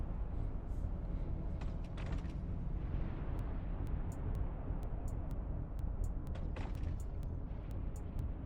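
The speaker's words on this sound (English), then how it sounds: "that Naga is shooting them" A Naga battleship in EVE Online fires its weapons as deep, rumbling booms over a steady low space drone, with sharp clicks scattered on top and faint voices in the background.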